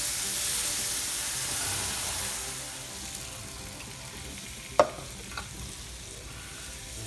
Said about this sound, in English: Just keep stirring it until it gets a little thick.